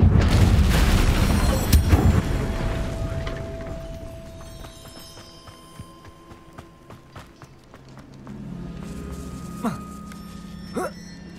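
Confringo fire spell exploding in Hogwarts Legacy, a loud booming blast up front that rolls off into rumbling decay, followed by scattered clattering impacts and a few swooshing effects, with a brief voice in the game.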